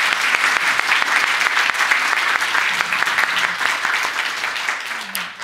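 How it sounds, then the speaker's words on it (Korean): Church congregation applauds the choir, conductor and accompanist during a Sunday service, a full round of steady clapping from a sizable room that tapers slightly toward the end. "우리 모든 성가대를 격려하는 의미에서 여러분 박수 한번 주시기 바랍니다"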